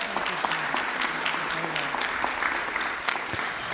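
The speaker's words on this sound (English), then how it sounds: "Another round of applause, please, for our moderators." Applause from the audience at a school district candidate forum. The clapping is lively and sustained, with sharp individual claps close by and no talking.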